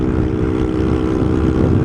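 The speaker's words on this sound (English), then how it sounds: "I'm sorry about the wind noise and the noise of the bike if it's quite bad" Motorcycle riding on fast national speed limit roads on a windy day, a steady loud roar of engine and buffeting wind noise filling the whole moment with no pauses or talk.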